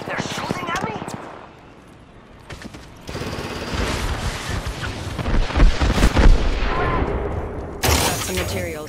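Bursts of gunfire and explosive impacts from an Apex Legends match crackle and rumble in dense volleys, mixed with game effects and a voice speaking.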